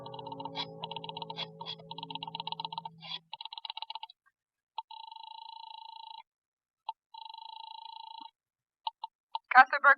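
Old rotary telephone in a 1946 radio drama: rapid clicking dial pulses, then several evenly spaced rings, sounding close and clear with no talk over them.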